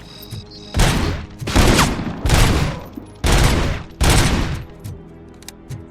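Heavy anti-material sniper rifle fire in RoboCop: Rogue City, five loud booming shots roughly a second apart, each a sharp blast with a long rumbling tail, heard alone without speech.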